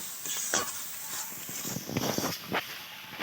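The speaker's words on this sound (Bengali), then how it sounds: "দিয়ে এটা একসঙ্গে ভালো করে কষিয়ে নেব" Potatoes sautéing in a pan with cumin powder, coriander powder and salt: close, soft sizzling under repeated scraping and stirring strokes of a spatula, uneven in rhythm and without talking.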